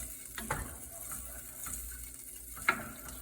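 Pasta sauce stirred in a pan makes a quiet, steady scraping with soft sizzling beneath it. Two brief, sharper clinks stand out, one near the start and one near the end, and no one speaks.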